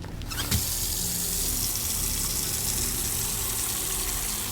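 Water gushes from a tap into a container in the video game Autopsy Simulator, starting abruptly and then holding a steady, loud rushing pour throughout with no talking.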